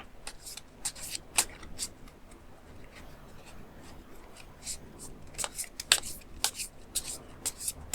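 Tarot cards are shuffled and drawn close up, quiet crisp flicks and slaps arriving in irregular bursts with soft rustling between them.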